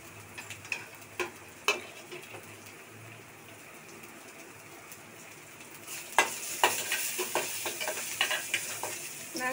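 Chili, ginger, mustard seeds and cumin frying in hot oil for an Odia dahi manja dish, a steady close sizzle with scattered pops and stirring clicks that grow louder and busier in the second half.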